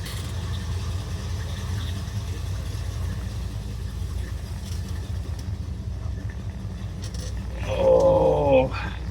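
A 1978 Ford Bronco's engine rumbles low and steady while driving around the block, with a brief louder burst of higher-pitched engine or road noise near the end.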